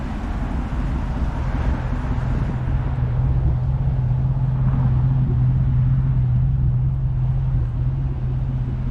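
A 1996 Ford Mustang Cobra drives past with a loud, steady low engine drone and road roar that hold for the whole stretch, heard from outside the car with no talking.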